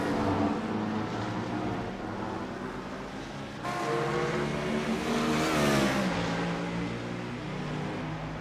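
BMW race cars from a racing video game roar past at Road Atlanta, loud continuous engine drone with a rising rev swell midway, no voices.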